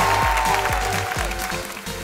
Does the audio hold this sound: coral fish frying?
no